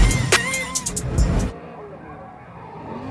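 Ford Mustang RTR Spec 5D drift car at a New Zealand drifting championship round in Christchurch, engine roaring loudly with tire squeal, then cutting to a quieter ambient tail where talk is heard.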